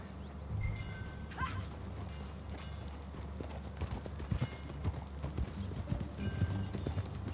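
Hooves clip-clop at a steady walking pace in Red Dead Redemption 2, moderately close, over a quiet outdoor ambience with a faint horse sound early on.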